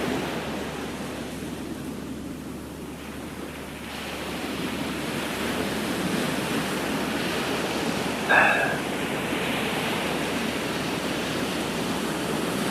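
Ocean waves wash steadily against the shore in a broad, continuous roar mixed with wind, with one brief brighter splash partway through.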